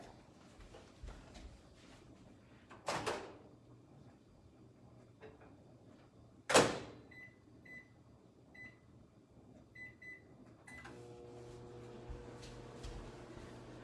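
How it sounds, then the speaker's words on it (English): A microwave oven being loaded with a tray of rice gives two sharp door clunks, then a few short beeps, and finally the steady hum of the oven running. "pop it into the microwave"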